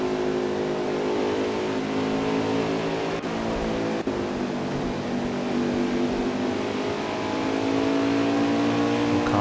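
Race trucks in the Fast Family Trucks Series run on the Eldora dirt track: engines drone and rev steadily without a break, with pitch rising and falling as they work through lap traffic, and two sharp clicks partway through.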